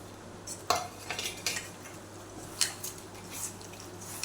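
Onions are stirred into pure mustard oil in a pot while cooking mutton handi. A spoon gives light, irregular clinks and scrapes against the metal, fairly quiet and close, with no talking.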